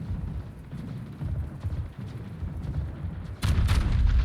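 In the World of Warships video game, battleship guns fire at the North Carolina. Low, muffled booms and rumbles run through the scene, then a louder, heavier blast lands near the end.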